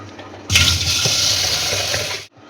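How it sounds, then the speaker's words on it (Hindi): Water runs and splashes steadily for about two seconds as moong dal lentils are rinsed, then cuts off abruptly. "इस दाल को धो लेते हैं अच्छे से।"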